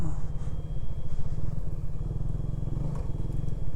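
A motorcycle engine thrums steadily and close while the bike is ridden along a rough mountain road near Hanna Lake, Quetta, its low rhythmic pulsing joined by occasional clattering.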